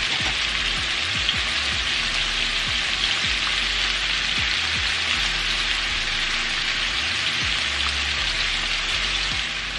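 Pineapple chicken thighs sizzle steadily in a pan, a loud continuous hiss and crackle with scattered pops, and no voices over it.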